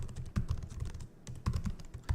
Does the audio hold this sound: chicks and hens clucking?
no